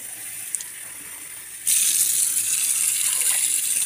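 Tap water gushes into a cooking pot for a winter speck soup, starting abruptly after a quiet moment with a small clink and then running as a steady, fairly loud hissing pour until the end.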